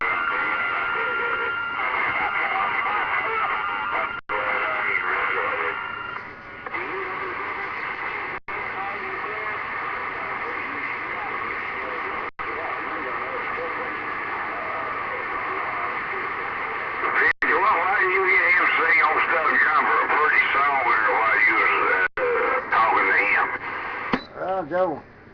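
A distant station comes through on a radio as a steady band-limited transmission with crackle and static, voices talking throughout and a sudden louder stretch near the end.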